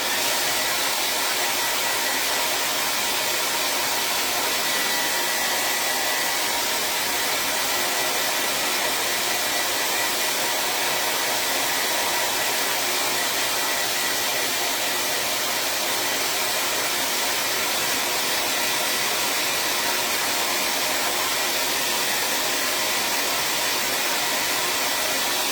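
A blow dryer runs steadily on a patriotic vintage truck craft project, a loud continuous airy whoosh holding an even level from start to finish with no talking over it.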